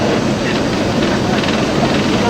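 Concorde G-BOAA climbing after a lightweight takeoff, its engines at raised power making a loud, steady broadband roar with no break, heard from inside the cabin.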